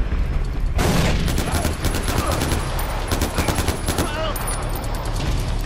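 AK rifle fire in Far Cry 4, loud rapid bursts of automatic shots crackling close by in quick repeated volleys that carry on for several seconds.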